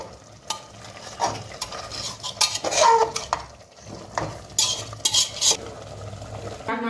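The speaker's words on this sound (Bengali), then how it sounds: "চিকেনটা আমি একটু নেড়ে দেবো যাতে তলায় লেগে না যায়।" Chicken pieces are stirred with a metal spoon in a pressure cooker for biryani, scraping and clanking against the pot over a soft sizzle of frying; the strokes are close and irregular, with no one speaking.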